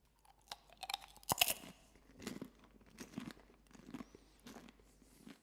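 Someone bites into and chews a crunchy caramel chocolate treat, a sharp crack of a bite followed by a steady series of close, moist crunching chews, quiet and up close with no talking.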